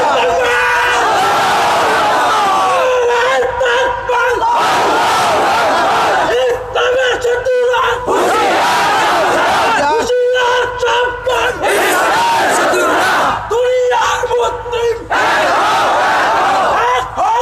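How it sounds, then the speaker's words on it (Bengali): A crowd at an Islamic religious gathering shouts takbir in loud, surging unison bursts. The waves of voices rise and break off repeatedly, and a speaker's amplified voice is heard between them. "নবীর পক্ষে একটা তাকবীর দাও"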